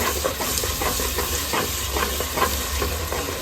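Ginger garlic paste frying in a pan for a fish curry, giving a steady close sizzle and hiss with soft rhythmic stirring scrapes throughout.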